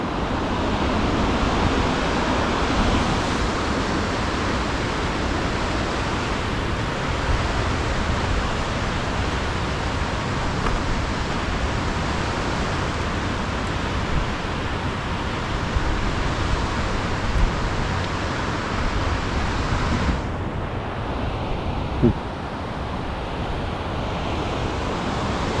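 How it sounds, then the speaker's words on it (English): River rapids in Trinity and Klamath National Forests rush loudly and continuously, a dense broadband roar that holds steady throughout, softening slightly near the end, with no voices. "Definitely some interesting rapids."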